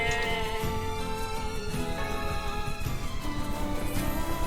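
Sheep bleats in the video game NieR Replicant, short calls sitting amid a dense, loud bed of game music and ambience.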